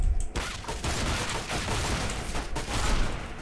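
Rapid, loud blasts of a Nova shotgun in CS:GO against bots, layered with other gunfire in a dense, continuous barrage with no pauses.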